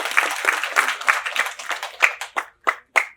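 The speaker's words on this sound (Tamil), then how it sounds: "ஒரு பெரிய கைத்தட்டல்" An audience at a Tamil movie audio and trailer launch claps, first as dense overlapping applause, then thinning into a few separate loud claps near the end.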